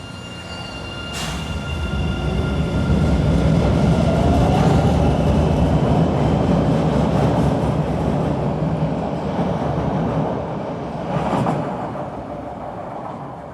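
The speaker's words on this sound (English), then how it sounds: "just in time to see the Owllife bound train depart." Subway train on the Owllife-bound line pulling away from a station platform, a steady loud rumble of wheels and motors with brief squeals and clatter, fading slightly toward the end.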